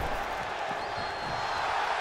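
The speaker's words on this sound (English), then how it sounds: "The sound of this crowd is deafening, and he's asking for more." A dense, steady roar from an arena crowd in the WWE 2K22 wrestling game fills the short stretch, loud and continuous, with faint thumps beneath it.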